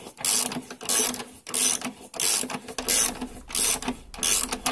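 A ratchet wrench clicks in quick repeated bursts, about six strokes, while engine mount bolts are tightened by hand on a car, close and fairly loud with no voices.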